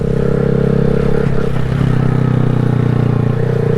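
A 2020 Honda Grom motorcycle running steadily up close, a low droning engine hum with a constant buzzing tone and light mechanical clatter throughout, no talking.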